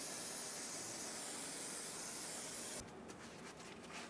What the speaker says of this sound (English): Use brake parts cleaner, clean off the line, clean off the bleeder screw, and clean off the caliper.